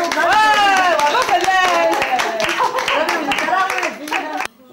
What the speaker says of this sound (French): Les filles, faut applaudir.